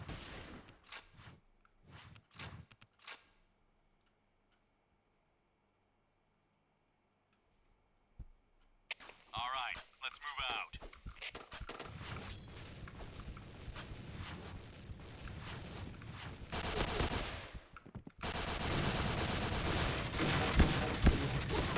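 Gunfire in the shooter game Point Blank: a few sharp shots at the start, a near-silent stretch, then dense, sustained firing that grows louder toward the end.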